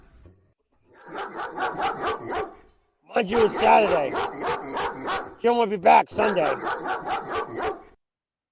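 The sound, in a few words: dog barking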